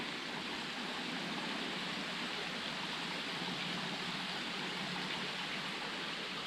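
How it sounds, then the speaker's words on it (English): A tiny brook trickles along the Long Trail, giving a steady, even rush of flowing water with no pauses, moderately soft and unbroken throughout, with no voices. "It's just a tiny tiny little brook. It sounds beautiful."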